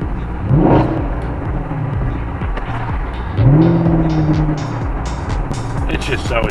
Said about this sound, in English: waiting to get to a light so I can do a little rev.